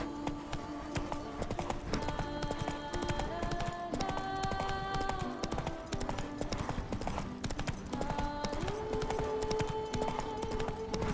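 Roach the horse trots in The Witcher 3: Blood and Wine, a steady clip-clop of hooves running throughout under busy layered game music and effects, fairly close and continuous.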